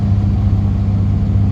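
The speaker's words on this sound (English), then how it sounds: "See the turbo building up boost." Fiat 500 Abarth turbo engine pulling steadily uphill, a loud, continuous low drone heard from inside the car with no talk over it.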